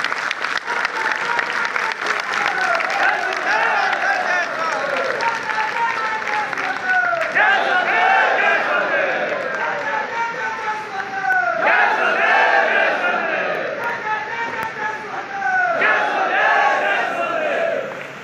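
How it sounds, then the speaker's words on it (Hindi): A large crowd in Lucknow claps loudly and cheers to welcome politician Om Prakash Rajbhar, sustained applause rising in repeated waves with shouted chants and voices mixed throughout. "जोरदार ताली बजा करके माननीय नेताजी का स्वागत करिए।"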